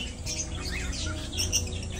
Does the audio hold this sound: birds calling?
yes